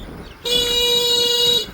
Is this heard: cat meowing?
no